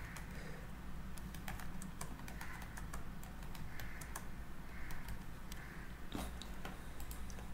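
Bank account details being typed on a computer keyboard, a steady run of quick, light key clicks close by with a few slightly louder strokes, no voices.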